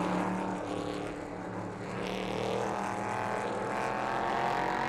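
A loud prototype race car engine drones steadily with a shifting pitch during qualifying at the Nürburgring, continuous and fairly close throughout.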